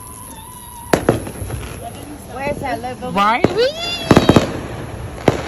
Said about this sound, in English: They popping fireworks all the way over there.